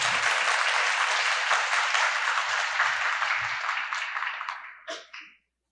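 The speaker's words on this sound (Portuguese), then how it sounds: "Uma salva de palmas, por gentileza." Audience at a commemorative symposium for the Instituto Pasteur's 120th anniversary applauds warmly, a dense sustained clapping that thins and fades over several seconds, ending with a brief thump near the end.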